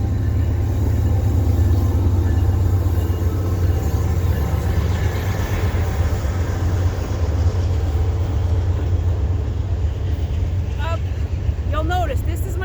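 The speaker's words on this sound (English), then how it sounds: "There's a train about to go by." A train passes close by outdoors, a heavy, continuous low rumble with wheel and rail clatter that holds steady, with some faint higher sounds near the end.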